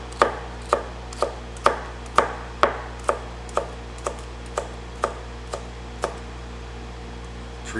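A knife chops through a bell pepper laid skin side down on a board, about fourteen crisp, evenly spaced cuts in a steady rhythm, close and clear over a low background hum.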